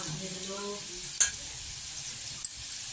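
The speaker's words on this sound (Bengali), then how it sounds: "এখন আমি এর মধ্যে কাঁচা লঙ্কা আর জিরা বাটাটা দিয়ে দিব।" Green chili and cumin paste sizzles and spatters in a hot frying pan while baim fish curry cooks, a steady close hiss with a couple of sharp clinks from stirring.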